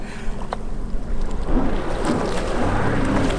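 A jet ski runs on the sea off Menorca, its engine a steady low drone with wind and water rush building as it approaches, fairly close and continuous with no talk.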